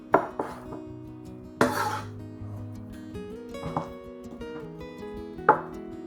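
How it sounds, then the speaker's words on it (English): A knife chops pork into cubes on a cutting board for stir-fried pork and mushrooms, a few sharp, close thuds spaced irregularly, with faint kitchen clatter and ringing tones between cuts. "Just cut it into pieces. Cut into 1-inch cubes, and keep the thickness at about ½ an inch."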